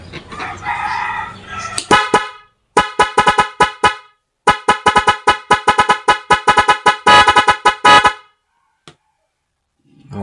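A loud double contact car horn on an NHAY 3+ Pro controller set to mode 4 blasts a melodic pattern of sharp, rapid honks in quick rhythmic bursts with short gaps, close and dominant.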